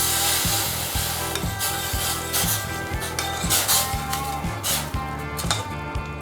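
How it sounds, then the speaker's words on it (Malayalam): A spoon stirring rice flour into boiling water for Malabar chemmeen unda puttu, with rapid repeated scraping strokes against the pot over a low steady bubbling hum. "സ്പൂൺ വെച്ചിട്ട് തന്നെ നന്നായിട്ട് മിക്സ് ചെയ്തിട്ട് ഈ അരിപ്പൊടി മൊത്തം വെള്ളവും മിക്സായിട്ട് വരണം."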